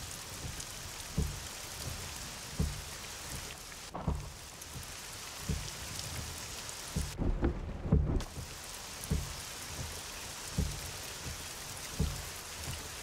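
Steady rain patters inside the Assetto Corsa racing game, with soft rhythmic thumps repeating every second or so and a louder rumble of thunder near the middle; no voices are present.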